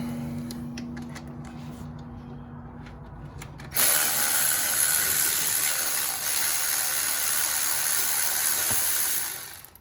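A wrench working at tight alternator bolts on a 2003 Nissan Altima 3.5, with faint ratcheting clicks and then a loud, steady mechanical whir close up that holds for several seconds before fading out.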